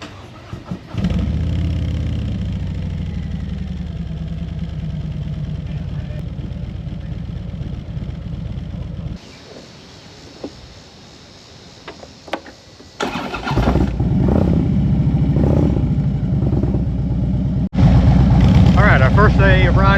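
A motorcycle engine at the Sturgis Rally, a bike freshly fitted with a new battery, rumbles at idle, drops away, then bursts back loud and close with revving surges.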